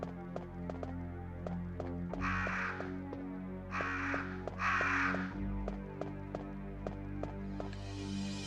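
In the horror game Resident Evil, crows give repeated harsh caws in short bursts over a steady low ambient drone and faint ticking pulses, loud and close, with no one talking.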